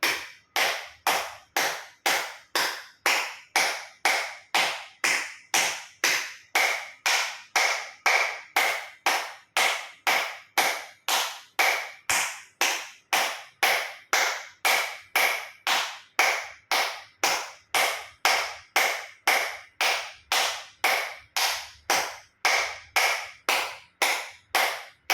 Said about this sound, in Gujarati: એક્યુપ્રેશર તાળી પૂરેપૂરા આંગળા હથેળી પૂરેપૂરું ટચ થાય રીતે 50 વખત તાળી પાડીશું